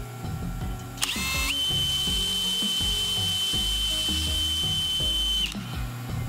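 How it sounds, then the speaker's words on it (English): Power drill boring holes into the top of a wooden walking stick for an 8mm dowel, a loud steady high whine running about four seconds over faint background clatter. "we've got our holes drilled"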